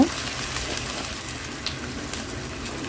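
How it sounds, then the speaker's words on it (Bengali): Ginger-garlic spice paste sizzles and fries steadily in a pan for duck curry, with soft scraping stirs and small spatters throughout, close and continuous at moderate loudness. "মশলাটা একটু নেড়ে নিচ্ছে"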